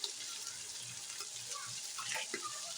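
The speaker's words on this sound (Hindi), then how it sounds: "2 गिलास पानी डालकर गलने के लिए रख देंगे" Water is poured into a pot of mutton, a faint continuous splashing trickle lasting a few seconds with no one speaking.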